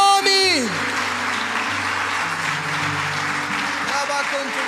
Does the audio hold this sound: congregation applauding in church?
yes